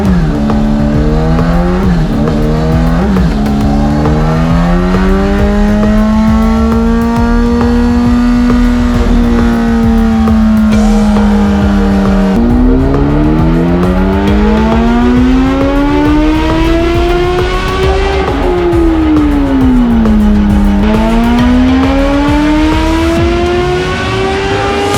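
A 2021 Kawasaki Z H2 motorcycle engine revs hard on a dyno, its loud pitch climbing, holding and dropping through repeated sweeps, close and continuous with no talk.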